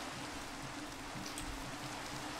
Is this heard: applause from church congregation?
no